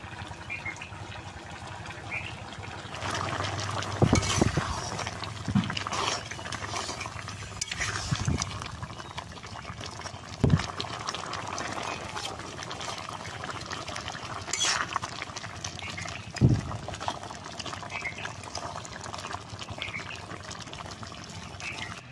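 Jaggery stirred into hot oil for a chalta (elephant apple) pickle, giving a steady close bubbling and sizzling hiss with occasional louder stirring knocks against the pan.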